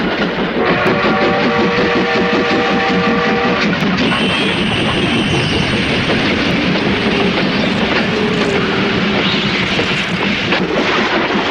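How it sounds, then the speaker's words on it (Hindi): A steam locomotive runs close by, its loud, continuous rumble carrying rhythmic clickety-clack and steady mechanical churning, with whistle-like high tones over the first few seconds. "अरे वाह, ये स्टीम लोकोमोटिव कितनी पावरफुल है।"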